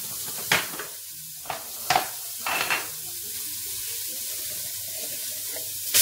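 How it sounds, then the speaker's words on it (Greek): Fennel pieces dropped into a hot 24 cm, 5-litre pot on a stove set to 7, making a few sharp, brief sizzles and clatters over a steady background hiss, with no talking. "ανοίγουμε το καπάκι και βάζουμε μέσα το φινόκιο σε κομμάτια"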